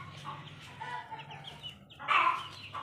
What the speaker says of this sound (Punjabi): ਇਹ ਆਪਣੇ ਵੱਡੇ ਮੁਰਗੇ ਤੇ ਮੁਰਗੀਆਂ ਇਹ ਵੀ ਜਮਾ ਸਾਰੇ ਠੀਕ ਠਾਕ ਨੇ